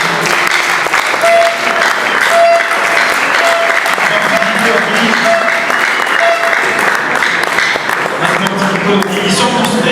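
Sustained audience applause for young participants at a scientific exhibition, steady and fairly loud, with a tonal sound and faint voices mixed underneath.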